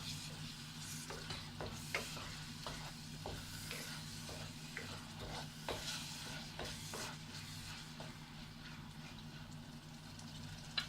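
Tomatoes frying in a pan for a prawn curry, with a soft continuous sizzle and repeated light scraping taps as they are stirred, faint and without talk.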